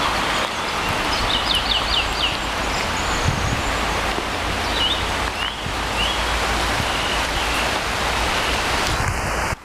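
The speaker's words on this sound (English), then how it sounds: "Here comes the rain." Steady rain falls outside in a hidden valley in Devon, England, a loud, continuous dense hiss throughout with a few faint bird calls over it and no talking.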